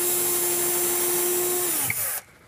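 Power drill boring pilot holes while installing a kitchen pull-out larder unit, a close steady high whine that winds down and cuts off after about two seconds.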